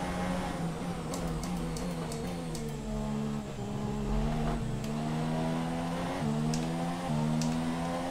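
Formula 1 race car engine in the video game F1 2017: a steady high-pitched engine whine holds near-constant revs, with brief dips and gear shifts and small clicks, continuous and close.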